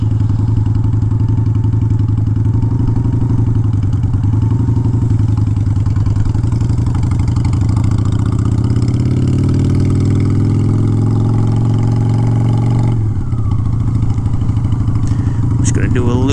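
Honda Shadow motorcycle engine with an unsteady, fluctuating idle, loud and close, its throb rising and falling over about sixteen seconds, then a brief rev near the end, with someone talking over it.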